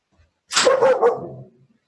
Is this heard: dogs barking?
yes